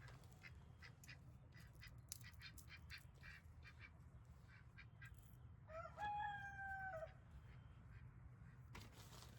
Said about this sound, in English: That didn't even sound like a rooster.